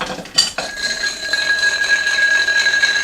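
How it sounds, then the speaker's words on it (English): Ice is stirred in a chilled stirring glass for a martini, with a bright clink at the start and then a thin, continuous ringing jingle of ice against glass. "So let's give this one a stir."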